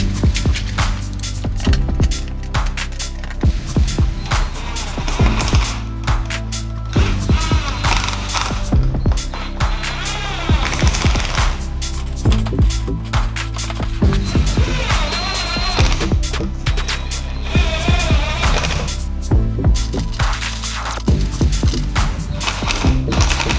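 Bolts are ratcheted in to fix a front lip onto a Mazda MX-5 Miata bumper, with repeated close clicking ratchet strokes and short mechanical bursts in an irregular rhythm throughout.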